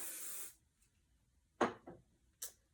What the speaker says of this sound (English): That's when my hairspray is going to come into place. I'm just going to spray this.